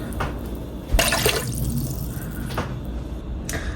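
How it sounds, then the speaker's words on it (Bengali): A cup of water poured into leftover sugar syrup in a pot, a brief splashing gush with lighter trickles and small knocks around it, close and alone. "দিয়ে দিলাম 1 কাপ জল।"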